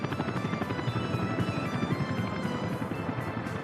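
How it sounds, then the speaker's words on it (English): A helicopter from the city-building game Workers & Resources: Soviet Republic thrums with a steady rapid rotor chop, loud and continuous throughout. "The helicopters should be able to come and drop off some steel."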